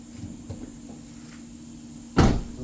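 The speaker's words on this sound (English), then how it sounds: "Close the door" A vehicle door fitted with a Wilco Offroad hitchswing slams shut with one loud, close thud after a quiet stretch of faint handling noise.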